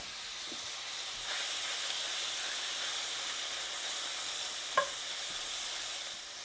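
Venison pieces for a Philly cheesesteak sizzle steadily in a hot pan, a constant frying hiss with a few soft clinks of stirring and breaking the meat apart.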